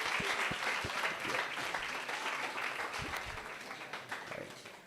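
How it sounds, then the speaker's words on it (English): Audience applause at an emergency medicine society conference in Ghana, fairly quiet and distant, with a few distinct sharp claps near the front, gradually fading toward the end. "please let's give him a round of applause"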